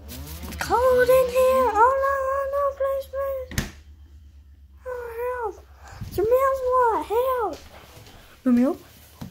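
A high, cartoonish voice imitates a cat, giving several drawn-out, wavering meows in separate bursts with short pauses between them.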